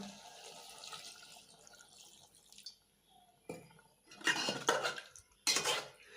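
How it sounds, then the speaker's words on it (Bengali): Hilsa fish and bottle gourd are stirred in a cooking pot, giving soft clinks and scrapes of a utensil against metal that build into a few louder bursts of clattering toward the end, close up with no talk. "ইলিশ মাছগুলো দিয়ে দেব। দিয়ে ভালো করে নেড়ে চেড়ে ঝোল দিয়ে দেব"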